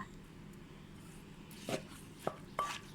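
Three sharp knife chops on fresh cucumber, spaced apart and fairly faint, in a Thai kitchen while preparing a spicy rice noodle salad with meatballs.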